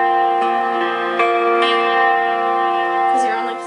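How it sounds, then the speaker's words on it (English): A guitar barre chord from a song intro, strummed close and left ringing with a full, sustained tone, with a few light re-picks and no speech. "The trickier part is making the bar chord."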